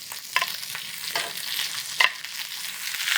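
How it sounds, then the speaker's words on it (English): Sliced zucchini and summer squash brushed with olive oil sizzle on a hot grill, a steady close crackle with small pops and bursts, no voices. "let's go ahead and place these right on the grill."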